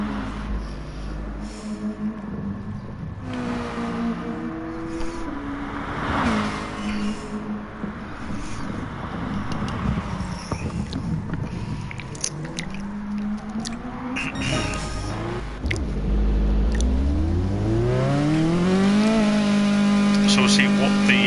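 Ford Mondeo touring car from a BTCC sim race at Sardegna pulls out of pit lane, its engine note climbing through rising revs and growing louder near the end, with voices talking over it.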